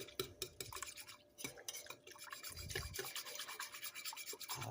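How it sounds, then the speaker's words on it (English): Crockpot beef roast gravy made with cream of mushroom soup, whisked in quick, steady rubbing strokes with occasional clinks, faint and close, with no voices. "I'm going to whisk this in."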